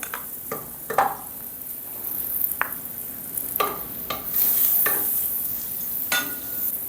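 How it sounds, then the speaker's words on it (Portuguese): Butter melts and sizzles in a deep, thick aluminium pan, a soft steady hiss broken by several sharp scrapes and clinks of a utensil stirring against the metal. "aí eu coloco a manteiga, deixo ela derreter"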